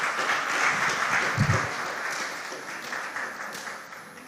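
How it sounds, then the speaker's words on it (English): Sustained audience clapping at a school quiz competition as a contestant takes his seat, dense and even from start to finish with no speech. "Oh, please clap for him."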